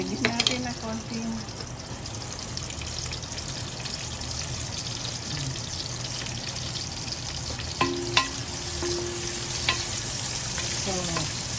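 Sliced onion frying in a hot pan, a steady close sizzle running throughout with occasional stirring clinks and scrapes, from a Filipino kitchen cooking ginataang labong with saluyot and mackerel.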